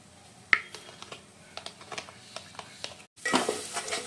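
A thick cashew, poppy-seed and onion paste is stirred in a pan for Kolkata-style chicken chaap, with soft scraping spoon strokes and faint sizzling. A brief pause is followed by louder, denser sizzling and stirring.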